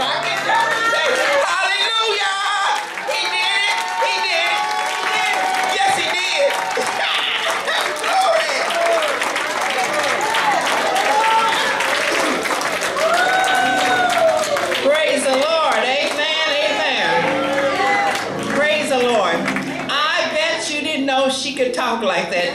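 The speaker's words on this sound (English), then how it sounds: "if God has done something for you, stand up and clap your hands" Church congregation at a Sunday morning praise service clapping their hands, a continuous roar of applause with cheering voices and chatter that holds loud throughout.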